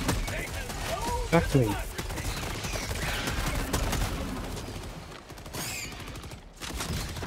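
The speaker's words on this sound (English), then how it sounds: "Mortar." Mortar fire in the video game Helldivers 2, a burst of rapid booming shots and thuds amid battle noise, with someone speaking briefly over it.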